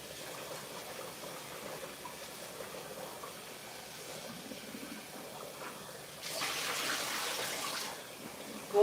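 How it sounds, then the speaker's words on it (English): Tap water gushes in a steady stream for a second rinse, a faint low trickle for most of the stretch, then a louder full flow near the end, with no talking. "This is my second rinse."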